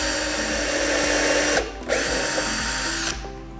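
A power drill bores a pilot hole into a board of recycled wood for a birdhouse, a steady loud whine that briefly drops out twice before spinning back up, with no talking.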